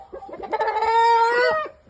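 A Shamo game rooster gives a short, throaty run of clucks that rises into a drawn-out nasal call, close and clear, about two seconds long.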